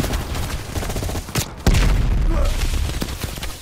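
Dense, rapid gunfire from a Call of Duty Black Ops Cold War firefight, with loud overlapping bursts and heavy low thumps. The volume dips briefly partway through, then the shooting resumes strongly.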